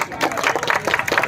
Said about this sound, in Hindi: इसके लिए इन सब लोगों के लिए एक बार जोरदार तालियां